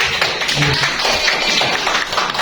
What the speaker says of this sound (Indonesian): tepuk tangan dulu buat Ica